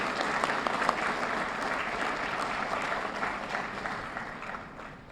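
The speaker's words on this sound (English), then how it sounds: "So let's give you a round of applause." A large audience at a New Orleans EMS awards ceremony honoring first responders applauds, a dense, continuous wash of clapping that holds steady for several seconds and then tapers slightly at the end.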